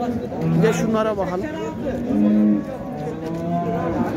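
Cattle moo repeatedly nearby amid a busy, crowded livestock market in Şarkışla, Turkey, while someone speaks briefly over the lowing.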